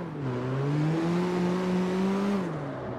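A Nissan S15 in the CarX Street racing game on a test drive, its engine holding a steady droning rev that climbs slightly, then drops off near the end, loud and close with no talking.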